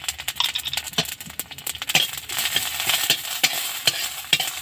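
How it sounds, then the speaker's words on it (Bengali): Whole coriander and cumin seeds fry in a little oil in a pan, a close, continuous sizzle with sharp crackles and scraping stirs throughout. "সামান্য একটু তেলের মধ্যে গোটা ধনে দিলাম, এবার গোটা জিরে দিলাম"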